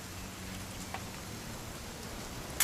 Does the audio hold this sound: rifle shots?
no